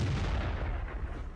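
Tank gun firing a blind shot in World of Tanks, a heavy low boom with a rumbling tail that fills the moment, close and loud, with no voices.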